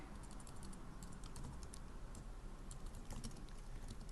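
Quiet, rapid clicking of computer keys in irregular bursts over a steady background hiss.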